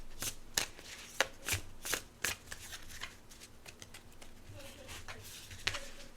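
Tarot cards being shuffled by hand, a run of quick papery riffles and slaps in uneven bursts, close and fairly loud over a quiet room hum, with no one talking.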